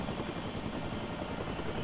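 A video game helicopter flies in with a steady, dense rotor roar that stays constant and fairly close throughout the short span, with no talking over it.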